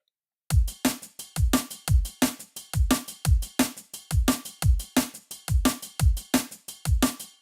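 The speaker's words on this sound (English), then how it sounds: "I'm going to put some ride cymbals in" A sequenced drum pattern built in Reason software, with kick hits and ride cymbals in a steady, even loop of about two hits per second, loud and close with no talking.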